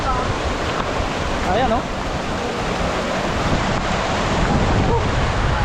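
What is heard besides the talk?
water flowing from Dipalo Falls along Dipalo River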